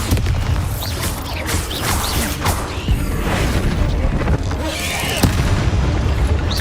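Bombarda blasting spell going off in Hogwarts Legacy, a loud dense roar of explosive rumble and crashing debris filling the whole clip with sharp cracks near the end.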